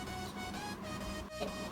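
Anycubic Mega i3 3D printer running, stepper motors whining in shifting tonal steps, close and continuous for a brief moment with no talk.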